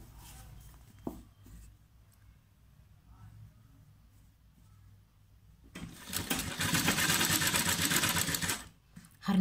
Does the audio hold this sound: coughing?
no